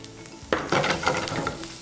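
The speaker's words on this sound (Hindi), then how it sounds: "हाई हीट पे अच्छे से टॉस करना है।" Onions with broccoli, carrot and cabbage being tossed over high heat in a pan for vegetable fried rice, giving close stirring scrapes and bursts of sizzling that grow louder partway through, with no talking.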